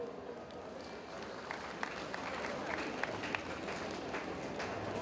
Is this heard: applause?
yes